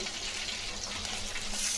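Water used to rinse a mixer jar pours into a pot of tomato kuzhambu with a continuous close splashing gush.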